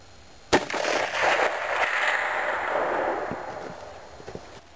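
A single sharp rifle shot from a Winchester 94 in 30-30 cracks out over a snowy field, fired off a fence toward a target 400 yards away, followed by a long rolling echo that fades slowly.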